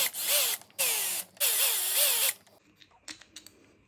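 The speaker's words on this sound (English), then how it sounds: "So I am going to go along with the drill to just take them all out." A power drill with its clutch set low backs bolts out of a YZ 80 engine, giving three loud whirring bursts with rising and falling pitch, followed by faint clinks and small tool taps nearby.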